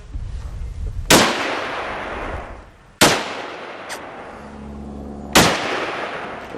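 Three sharp rifle shots ring out during a wild boar hunt, each a loud crack followed by a long rolling echo, spaced a couple of seconds apart.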